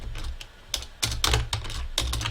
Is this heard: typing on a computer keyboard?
yes